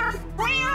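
A cat meows once, close and loud, a rising then falling cry in a blocky Minecraft-style game scene.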